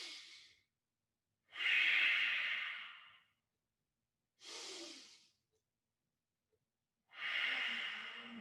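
Slow, deep breaths during yoga forward bends: three long audible exhalations with quiet pauses between them, close and soft, with no talking.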